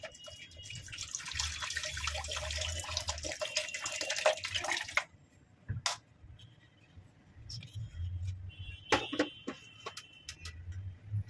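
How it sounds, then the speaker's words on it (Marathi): Water is poured into a pot of yogurt buttermilk kadhi, a splashing pour for about five seconds followed by quieter kitchen clinks and a second short trickle, close and without talk. "थोडंसं याच्यात पाणी ओतूया।"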